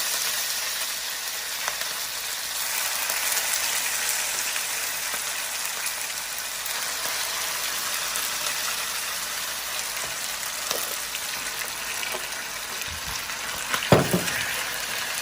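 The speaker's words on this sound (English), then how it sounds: "And hear the sizzling sound." Continuous crackling sizzle of a Cantonese-style stir-fry in a hot pan, with occasional knocks and scrapes of a utensil, loud and close.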